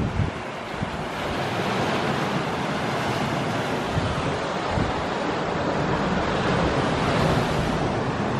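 Sea waves break on the Norwegian coast in a loud, continuous rush of surf, heavily buffeted by wind against the microphone, with no voices.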